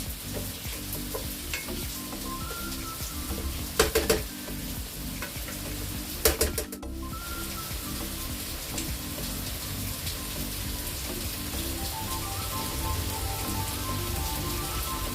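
Vegetables sweating down in a pot for a spiced vegetable soup, a steady soft sizzle and crackle throughout, with a few sharp clatters of a utensil against the pot, no voices.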